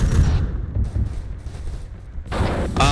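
Heavy cannon fire and gunfire from the Arma 3 video game during a combat mission: booming blasts and crackling shots with rumbling echoes, loud and continuous, and no voices.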